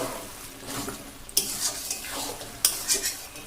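Taro stalks being stirred in a pan over a village-style fire, with a steady low sizzle, soft scraping of a utensil and two sharp metallic clinks against the pan, close and alone.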